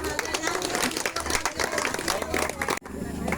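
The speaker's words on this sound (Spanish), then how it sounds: "Denle un aplauso a Cristo." Church congregation applauding during a Spanish-language sermon, dense rapid clapping mixed with crowd noise, fairly close, cutting off abruptly near the end.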